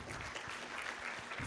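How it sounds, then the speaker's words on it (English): Faint, distant audience applause at a launch event for a Kenyan statistics strategy, a soft continuous patter of many hands. "Let's give them a round of applause"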